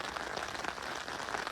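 Heavy rain pours down in a thunderstorm downpour in Norwich in mid-May, a dense, steady patter of drops close by, fairly quiet and unbroken.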